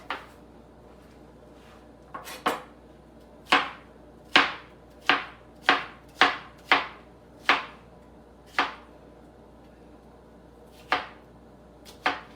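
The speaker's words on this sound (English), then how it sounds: "Cut that up into little cubes." Knife cutting fruit into small cubes on a cutting board for a summer salad, about a dozen crisp close chops coming in uneven bursts and then thinning out toward the end, no talking.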